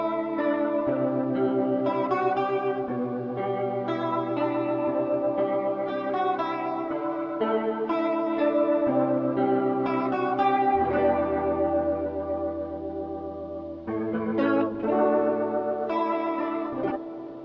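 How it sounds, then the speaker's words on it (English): Twelve-string guitar through a swirly Leslie-style rotary effect in the Line 6 Helix Native plugin, chords ringing continuously with a warbling chorus-like shimmer and echo, alone and fairly loud. "I've kind of gone for a bit of a swirly Leslie type thing"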